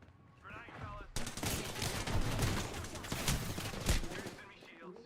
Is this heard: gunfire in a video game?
yes